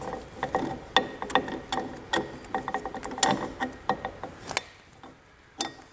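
A ratchet wrench tightens a new rear wheel cylinder on a Triumph Spitfire Mk1 or Mk2 brake, giving quick, close clicking strokes in irregular bursts before it stops.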